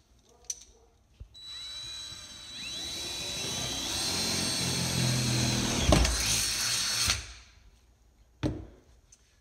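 A power drill bores holes through the metal body of a van while a diesel heater is installed, whining up and grinding for several seconds, close, with brief knocks before and after.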